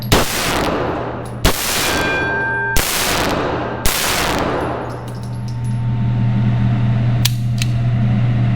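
Beretta PX4 Storm 9mm polymer-framed pistol firing at a range: four loud sharp shots about a second apart, each with a ringing decay, then a fainter metallic clink.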